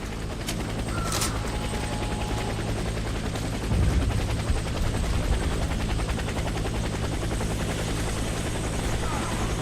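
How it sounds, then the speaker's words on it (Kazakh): A helicopter in the video game Warface whirs loudly and steadily throughout, with its rotor drone filling the scene and scattered gunfire and faint game voices mixed in. "Садитесь в вертолет."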